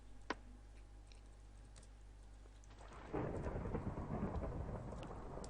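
Thunder from a lightning strike in the video game Minecraft, a sudden rumbling roar that swells and lingers over a faint steady background hum, with no talk.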